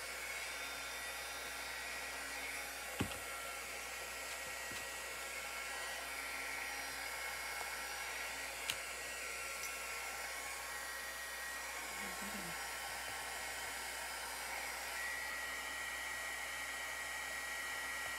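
A hair dryer blows steadily to dry paint on a wooden Halloween decoration, a continuous close whooshing hum holding for the whole stretch with a couple of faint knocks.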